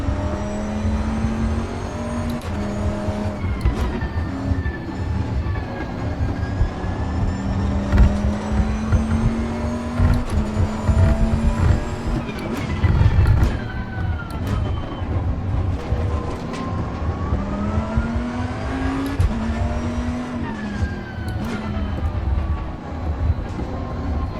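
A race car drives in Assetto Corsa Competizione, its loud engine rising and falling through gear changes and corners across a continuous run, with no talking.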